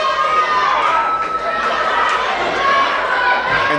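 A fight crowd at a boxing bout roars and cheers in a dense, loud, continuous wash of voices, with shouts rising above the noise throughout.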